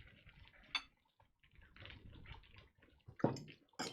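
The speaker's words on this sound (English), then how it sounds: "we're gonna go ahead and put in 1 full ounce of the cream of newt" Cream of newt, an almond syrup made with orange flower water and sugar, poured into a cocktail glass: a soft, quiet trickle of liquid broken by a few light glassware clinks, with no talking.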